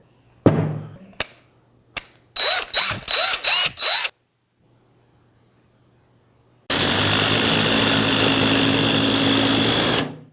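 Cordless drills, one brushed and one brushless, run up close and loud: a few quick clicks, a series of short whirring bursts, a pause, then one long continuous high-speed whine.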